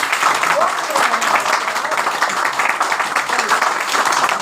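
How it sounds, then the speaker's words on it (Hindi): Audience at an RCM business meeting clapping steadily in a broad, continuous round of applause that fills the hall, with voices murmuring underneath. "एक बार ताली बजाइए"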